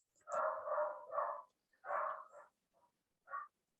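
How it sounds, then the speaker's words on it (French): Several small dogs bark in quick bursts from an upper floor, sounding somewhat distant and muffled, with a cluster of yaps followed by a few shorter, scattered barks. "Mes chiens sont en délire."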